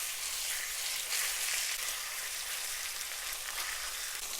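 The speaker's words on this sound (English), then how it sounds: "We have a smoking hot pan here prepared, and now what we're going to do is very quickly flash fry our steaks." Steaks flash frying in a smoking hot pan sizzle loudly and steadily at close range, a dense hiss that holds without pause and has no voices over it.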